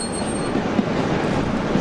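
A faulty diesel multiple unit struggles into Carlisle station, its wheels giving a thin, sustained squeal over a steady low rumble, with a couple of brief knocks as it creeps along nearby.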